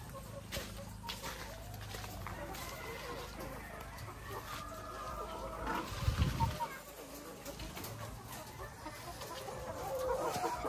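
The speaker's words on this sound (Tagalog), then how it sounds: "Lowman layer chicken." Lohmann layer chickens cluck and squawk continuously inside a poultry farm building, a dense flock murmur with occasional louder calls, while voices are faintly heard beneath.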